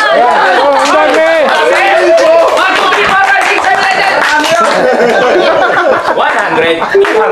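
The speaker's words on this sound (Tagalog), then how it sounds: "Isang libong palakpak." A crowd gathered for a live stream claps in a loud, continuous burst, mixed with chatter, laughter and voices talking over the applause.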